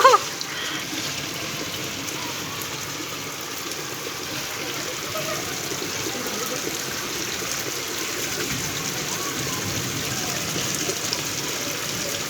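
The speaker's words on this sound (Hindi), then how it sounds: "बारिश आ रही है" Rain falls steadily during a family monsoon outing, a continuous broad wash of water with a gushing, splashing quality that holds an even level for about twelve seconds.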